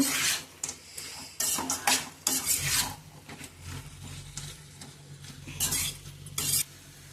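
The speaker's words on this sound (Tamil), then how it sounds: "ஒரு 5 நிமிஷத்துக்கு இந்த இஞ்சி பூண்டு வெங்காயத்தோட நல்லா வதக்கி எடுத்துக்கலாம் அந்த காடையை" Quail pieces sauté with ginger, garlic and onion in a pan, giving a soft sizzle broken by repeated scraping and stirring strokes, close and fairly quiet, with no voices.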